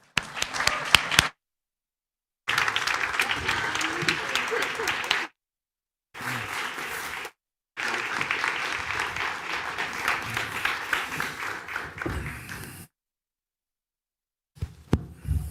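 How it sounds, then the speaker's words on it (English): An audience claps to welcome the Booker Prize winner onto a literary event stage. The applause comes in bursts broken by abrupt silent gaps, and it is moderately loud. "please welcome with a warm round of applause this year's Booker Prize winner on the Liebe stage"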